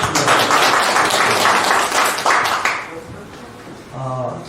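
Audience applause at a disability culture association meeting in Ansan, a dense wash of clapping that swells and then fades, with voices emerging near the end.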